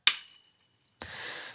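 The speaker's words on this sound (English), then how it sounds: "it's me hitting a tambourine with a stick" A tambourine struck with a stick: a bright metallic jingling crash that decays over half a second, then after a pause a second softer, rustling hit that fades out, close and without talk.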